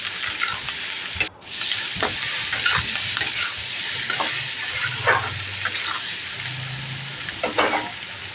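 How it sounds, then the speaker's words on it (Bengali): Egg and paneer with salt and turmeric frying in a pan, a steady bright sizzle with scraping stir strokes close by, and a faint dog bark in the background. "এখন এটাকে ভালো করে নাড়বো আমি।"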